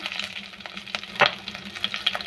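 Curry leaves fry in hot oil after spluttering mustard seeds, giving an uneven crackle of sharp pops and a louder burst partway through, moderately close and without talk.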